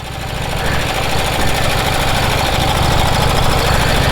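A 108-year-old Harley-Davidson motorcycle engine runs loud and close with a steady, rapid low chugging beat, holding a constant rhythm throughout.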